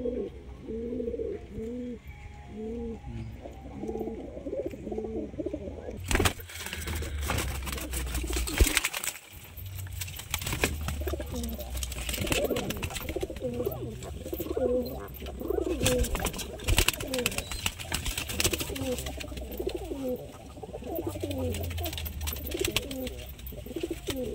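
Pigeons coo repeatedly in soft, rolling calls at close range, continuing throughout, with louder handling and rustling noises breaking in near the middle and a general outdoor background.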